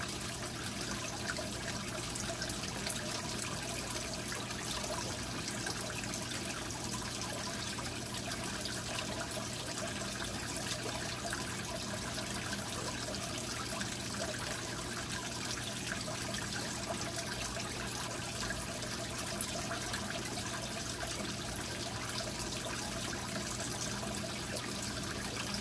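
Water drains steadily from a brackish aquarium during a water change, a continuous low trickle and rush that stays even and faint throughout.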